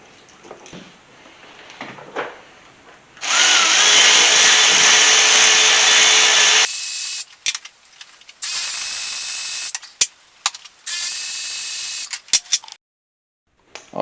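A ratchet wrench works exhaust header studs loose on a project engine, with several loud sustained bursts of buzzing ratchet action separated by short clicks and pauses, close by.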